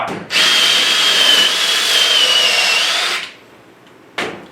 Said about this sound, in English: I'm going to use a drill bit now from the same exact leading competitor. Let's see if we can even drill anything with it.